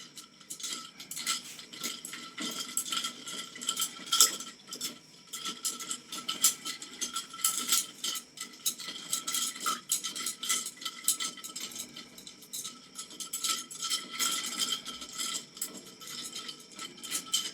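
Ice chunks stirred slowly in a container to help them melt give a steady run of close, light clinking and rattling that continues throughout with no voices.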